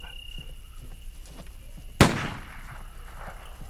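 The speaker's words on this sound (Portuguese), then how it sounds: "deixa eu ver se eu consigo dar um tiro nessa arma" A single sharp gunshot in the survival video game Next Day: Survival, a loud close crack with a short decaying tail, standing out from quiet background noise.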